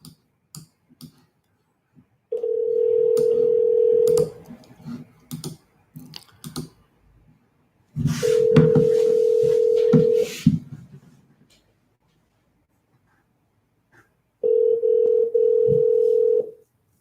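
A phone dials a cell number with rapid clicking key presses and keypad tones, broken by three long steady ringback tones.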